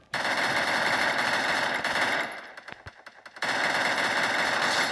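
Rapid automatic gunfire from the mobile shooter game Free Fire, loud and continuous bursts that thin out into scattered shots for about a second before a full sustained burst resumes, with no talk.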